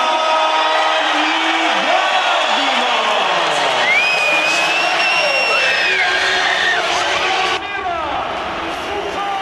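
A boxing arena crowd roars and whoops for Evander Holyfield, a loud sustained wall of cheering with an announcer talking over it throughout.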